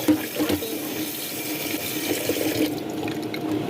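Tap water runs steadily into a kitchen sink while vegetables are washed under it, a continuous close splashing rush with no voices.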